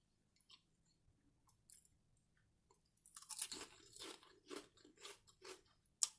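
Someone eats a toasted sub sandwich with melted cheese up close, starting with quiet faint nibbles, then a run of loud crunchy bites and wet chewing in uneven bursts, with no talk.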